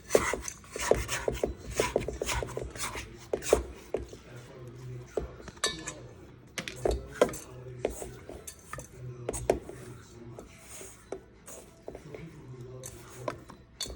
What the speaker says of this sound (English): And then I use my bowl scraper to scrape it all down.